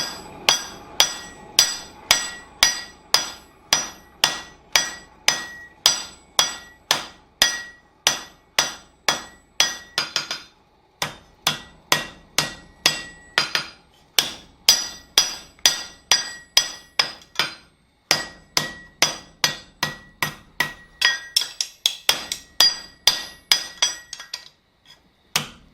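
Steady metal-on-metal hammer blows ring out on an 8-pound stake anvil as smaller stock is forged, struck in fast rhythmic runs with brief pauses between bursts, close and loud, with no talking.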